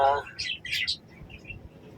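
Chicks chirp in a poultry setup, a few high, short tweets close by right after a brief voice, then fading to fainter peeps over low background noise.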